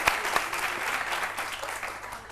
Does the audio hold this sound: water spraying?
no